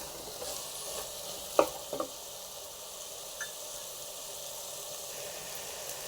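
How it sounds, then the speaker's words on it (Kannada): Masala fries in a pan with soaked peas for kushka rice, giving a steady low sizzle with a few brief clinks and scrapes of stirring. "ಮಸಾಲೆ ಎಲ್ಲ ನೀಟಾಗಿ ಫ್ರೈ ಆಗಿದೆ"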